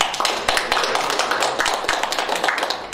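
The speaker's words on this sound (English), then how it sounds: "So give a round of applause to Evan." An audience gives a round of applause for Evan Berman at the close of a writing clinic session, a steady patter of hand claps lasting about three seconds with no talking over it.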